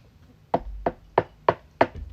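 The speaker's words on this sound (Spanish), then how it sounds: "sentimos un golpe suave pero insistente en la puerta de" Five soft, evenly spaced knocks on a wooden bedroom door at night, close by and insistent, with quiet silence between them.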